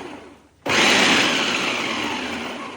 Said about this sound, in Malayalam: ചീര എളുപ്പത്തിൽ മുറിക്കാൻ വേണ്ടിയിട്ട് നമ്മൾ മിക്സിയിൽ ചോപ്പറിൽ ഇട്ടിട്ടുണ്ട്